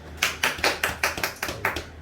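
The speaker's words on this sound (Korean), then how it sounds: "박수 한번 칩시다" A church congregation at a retreat claps in unison, about nine sharp, evenly spaced claps in a steady rhythm. The claps are close and clear, with no talking.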